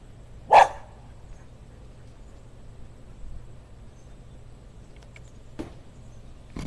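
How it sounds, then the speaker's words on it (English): A young dog gives one sharp, loud bark, then a couple of fainter yips follow later against a quiet background hum. "Pretty sure you can hear my puppy."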